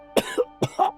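A video game character coughs in a dating-sim game, giving two close, quick pairs of harsh coughs in a row.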